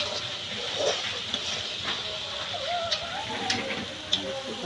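Blind snake curry being sautéed in a pan in a Bangladeshi village kitchen, giving a steady soft hiss and sizzle with faint scraping clicks, while a voice speaks quietly over it.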